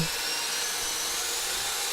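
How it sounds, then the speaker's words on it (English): A hole saw grinds through a screw in a wooden dance pad base plate, giving a continuous high-pitched whining drill noise at steady loudness. "The hole saw went right through the screw like it wasn't even there."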